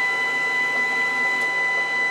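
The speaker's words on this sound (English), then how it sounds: "only thing we're waiting on now is the printer." Printer running a job sent from an Acer Iconia W7 tablet, a steady mechanical whir and hum with faint rattles, close and continuous with no talk.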